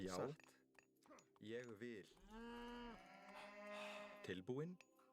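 Cows moo from livestock in a real-time strategy video game match, several drawn-out lowing calls one after another, clear and fairly close, with a few short clinks in between and no talk.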